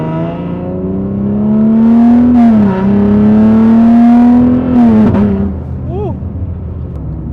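A Nissan Z sports car accelerating from inside the cabin: a loud, steady engine drone climbs smoothly in pitch with rising RPM, dips briefly at a shift, then climbs again before easing off, with a short excited exclamation from the driver.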